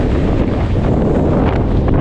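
Strong wind buffets a hilltop ridge on Kinder Scout, a loud, continuous roar of gusts blasting across the microphone with no letup.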